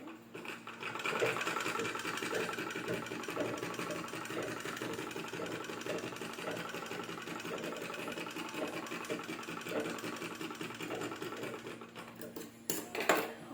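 A sewing machine runs in a steady, fast, rattling rhythm while stitching the bodice of a child's frock. It stays close and continuous, with a few knocks near the end.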